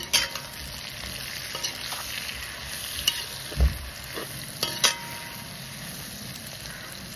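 Tomato pieces fry in hot oil with pork in a pan, giving a steady, close sizzle with a spatula scraping and stirring now and then, including a few louder knocks, and no talking.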